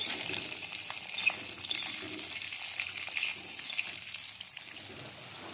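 Red chilies fry in oil for a pickle while being stirred, a soft steady sizzle with faint scraping and an occasional small pop, close and fairly quiet, no voices.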